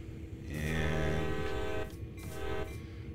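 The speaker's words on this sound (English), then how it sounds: "Couple of toots of the horn" A steam locomotive horn in Train Sim World sounds two toots, a long loud tonal blast followed by a shorter one after a brief gap, over a low engine rumble.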